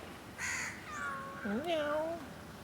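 A cat raised in the downstairs house gives a couple of drawn-out, wavering meows up close, the second rising and bending in pitch, with a person speaking around it.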